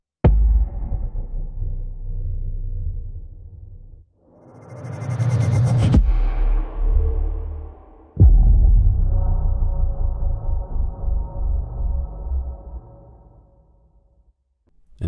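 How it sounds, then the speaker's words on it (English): Three sub drop sound effects from a sound library play in sequence, each a deep, booming low-frequency hit that decays slowly, with a brief airy sweep rising between the first two, loud and isolated. "Then we have sub drops."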